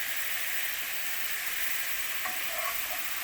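Butter and flour sizzle in a pan with stock for a quick pan sauce, a dense, even frying hiss heard close, with a faint clink partway through and no voices.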